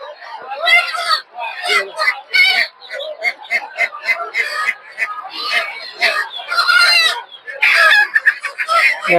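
Native chickens and roosters at a rural hen and duck market, with repeated clucking and crowing calls that come close and fairly loud, overlapping in a busy stream, with people talking among the birds.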